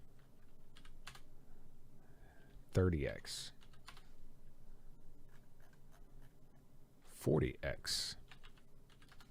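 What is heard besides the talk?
typing on a computer keyboard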